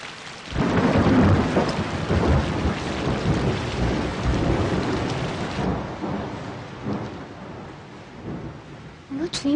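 Heavy rain pours steadily with rumbling thunder in a storm, loud and continuous throughout, easing slightly toward the end before a brief sharper sound.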